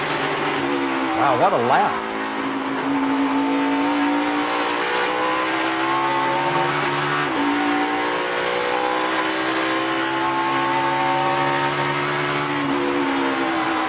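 A NASCAR Sprint Cup car on a qualifying lap downshifts through turns 6 and 7, its engine loud and close, dropping and rising in pitch as the revs change, with a commentator talking over it.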